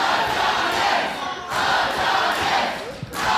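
A wrestling crowd roars for Prince Adonis during a match, loud sustained cheering that swells in waves with short dips between them.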